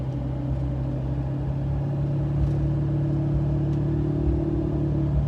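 Federal Explora M/T mud tires hum against the road while driving, a loud steady low drone mixed with engine rumble from inside the vehicle, unbroken for the whole stretch with no talking.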